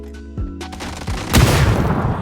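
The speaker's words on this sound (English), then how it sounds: "Frag grenades in particular allow you to damage or eliminate enemies hiding behind cover" Frag grenade blasts and gunfire in the PUBG video game: a few sharp shots and a deep boom, followed by a louder roaring explosion that rumbles on to the end.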